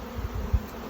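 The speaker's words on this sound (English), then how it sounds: "when you're shaking bees, good quick jar" Honey bees shaken off a hive frame fill the air with a dense, low, steady buzzing, close and loud, broken by a brief thump partway through.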